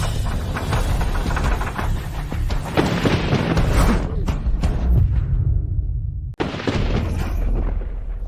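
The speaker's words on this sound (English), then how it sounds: "I heard thunder." A dramatic booming rumble of thunder, loud and sustained, that swells and rolls for several seconds, drops out abruptly, then comes back heavy.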